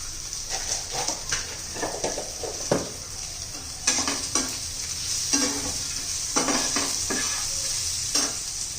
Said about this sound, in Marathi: तो पण चांगला तेलामध्ये परतून घ्यायचा आहे.